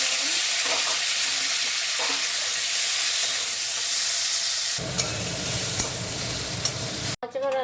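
Oil in a kadai crackles and sizzles steadily before a wetter, louder hiss takes over as onion and tomato go in, with several clinks of stirring and a sudden break near the end.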